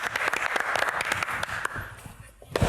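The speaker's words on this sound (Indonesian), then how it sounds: "Silakan tepuk tangan buat Duto" An audience at a comedy roast Q&A show breaks into lively applause for a comedian, dense clapping close up that fades briefly near the end before a few claps return.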